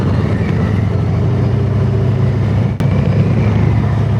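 A Harley-Davidson Road King Special custom bagger engine drones steadily and loudly at low speed through a U-turn, one continuous rumble with a brief dip near the end.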